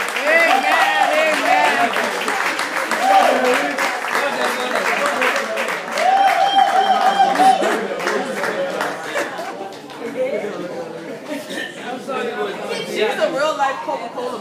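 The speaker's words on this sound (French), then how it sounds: "On applaudit Sœur Rosemary Chéri encore." Audience applause at a church appreciation ceremony honoring a pastor and leaders, steady sustained clapping with crowd chatter mixed in and a voice talking over it, fading slightly toward the end.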